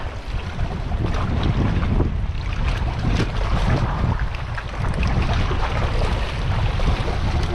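Strong wind buffets the microphone continuously with a low rumble while fishing, mixed with water and waves washing nearby, and no talking.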